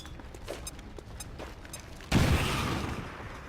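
Grenade blast in the turn-based strategy game XCOM 2, set off among a cluster of Codex enemies: a sudden loud boom about two seconds in, then a rumbling tail that slowly fades after quieter clicks and ticks.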